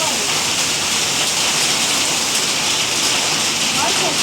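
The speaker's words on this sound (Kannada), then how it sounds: "ಮಳೆ ಬಂದು ನೋಡಿ ಹೇಗಾಗಿದೆ ಅಂತ" Heavy rain pours down in a steady, dense hiss that stays constant and loud throughout, with no breaks.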